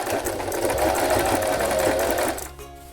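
A sewing machine runs a steady, fast whirring stitch through an old denim vest made from jeans, loud and close, then stops abruptly near the end, leaving a faint hum.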